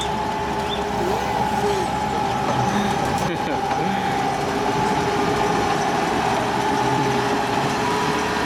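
A vintage train on the Glenbrook Vintage Railway in New Zealand passes close by, a steady loud rumble with a sustained tonal whine running throughout, while people talk nearby.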